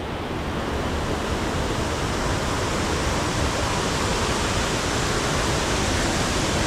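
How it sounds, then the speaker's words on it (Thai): Waterfall on Doi Thu Le in a forest, a steady loud broadband rush of falling water running unbroken and close throughout, with no voices. "เราเดินมาเรื่อยๆเราก็จะเจอสายน้ำตกนะคะ"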